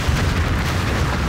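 A loud bomb explosion in the real-time strategy game Rise of the Reds, a dense low rumbling blast that fills the whole short moment without a clear attack or decay.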